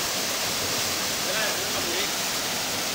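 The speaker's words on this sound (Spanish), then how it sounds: "Cascada del río Camurí Grande." The Camurí Grande river waterfall roars as a steady, dense wash of rushing water, loud and close, filling the whole span without break.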